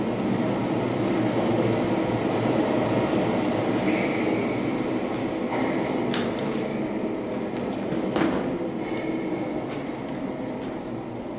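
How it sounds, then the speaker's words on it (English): Theatre sound effect of a train running on rails, a steady loud rumble with faint squeals and clicks throughout, from a stage production of The Curious Incident of the Dog in the Night-Time. "Is this train going to Wilson Junction?"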